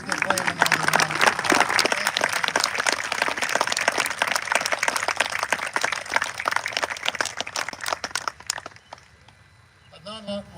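An outdoor crowd at an evening Taps ceremony at Gettysburg National Military Park gives sustained applause for a performer. The many hands clap steadily for about eight seconds, then fade out as a voice begins speaking.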